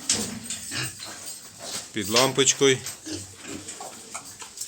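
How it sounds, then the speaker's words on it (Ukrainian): Piglet grunts and squeals mixed with someone talking close by in Ukrainian, the animal noises scattered in short bursts under and between his words. "Поросятка всі живі"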